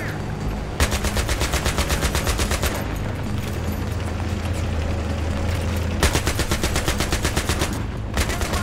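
Rapid automatic gunfire in a Battlefield video game comes in two long loud bursts of evenly spaced shots, separated by a stretch of rumbling battle noise.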